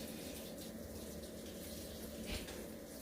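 Water pours and rushes steadily into a new washing machine as it fills, a faint, continuous gushing hiss with no speech.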